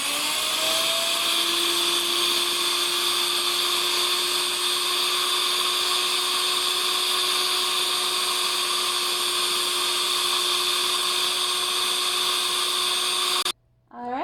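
An electric grinder pulverises dried lavender into powder, running as a loud, steady high-pitched whine with a constant drone, nonstop for about thirteen seconds before cutting off abruptly near the end.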